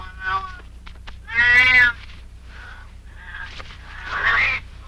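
A domestic cat yowls and meows while fighting a marten. Several loud, close, strained cries come in uneven bursts, separated by quieter growling sounds.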